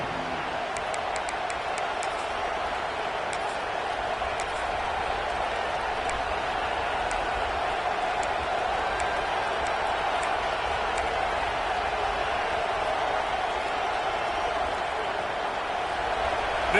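A packed stadium crowd at a college football game involving LSU roars in a sustained, even wall of noise, loud and continuous with faint whistles and cheers scattered through it.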